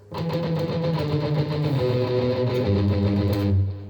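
An electric guitar with a distorted, effected tone plays an introduction riff, with sustained chugging notes ringing loud and close for several seconds before cutting off.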